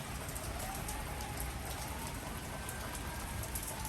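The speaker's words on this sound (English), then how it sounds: "He's showing pictures of rain." Steady rain on a rainy Los Angeles day, a dense, even hiss of drops falling on surfaces, faint and continuous with no voices.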